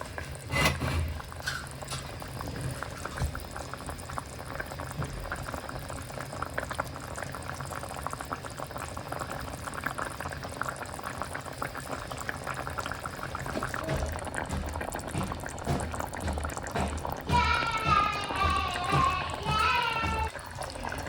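Steady bubbling of chilli fish curry simmering in an open clay pot on the stove, close and continuous, with a brief clatter early on and a higher sizzling flutter near the end.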